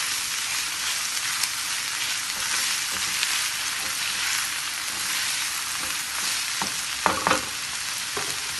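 Onions for shrimp bhuna fry in a pan with a dense, constant sizzle, and a few sharp stirring scrapes and clacks come near the end.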